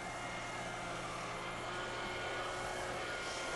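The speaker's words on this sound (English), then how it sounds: "For taking out high spots in the subfloor, there's nothing like using an edger or a spinner like the one you see I'm using here." A floor edger grinds down high spots in a wooden subfloor, a steady loud broadband roar with a constant motor hum that holds unchanged throughout.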